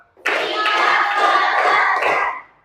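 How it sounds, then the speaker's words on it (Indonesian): A classroom of children clapping together in a counted rhythm during a lesson, a loud, steady burst of hand claps from close by that holds for about two seconds and then cuts off. "tepuk satu, tepuk dua, tepuk satu, tepuk dua, tepuk tiga, tepuk lima"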